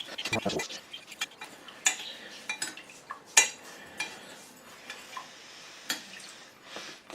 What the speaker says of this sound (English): we're going to stir those